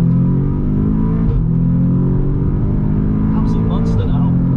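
An Audi S3 8V with a Stage 2 tune accelerating hard in second gear, its engine note droning loud and steady as it climbs, heard from inside the car with a brief high mechanical chirp near the end.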